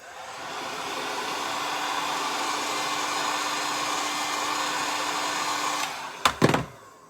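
A heat gun blows a steady loud whooshing roar while warming vinyl wrap on a piano black car panel, then shuts off with a few clicks and handling knocks.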